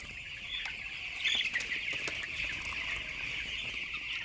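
A flock of chickens clucks steadily inside a poultry shed, a dense, continuous chorus of close, overlapping calls with brief louder bursts near the middle and no talking.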